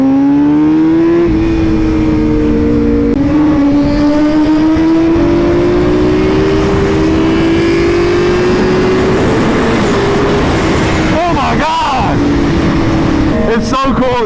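A Honda Fireblade sport motorcycle engine revs loud and close, its pitch climbing gradually over a sustained drone, with speech heard partway through.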